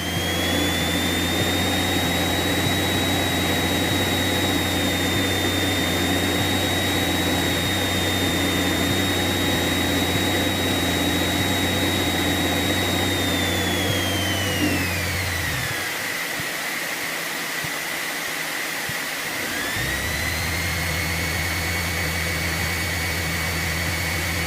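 Small airplane's propeller engine at a steady roar before a short field takeoff near Seattle, with whining tonal harmonics that dip sharply and briefly as the power drops, then recover to a steady loud drone.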